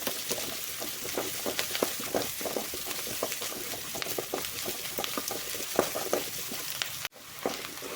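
Onions sautéing in a pan for a banana flower dish make a soft, steady sizzle with faint stirring scrapes and clicks, quiet and close, with no talk.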